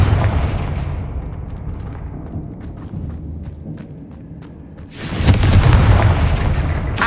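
A Confringo fire spell detonates in the Hogwarts Legacy video game, a loud deep boom with a burst of rumble that swells after a quieter stretch of low ambient game rumble.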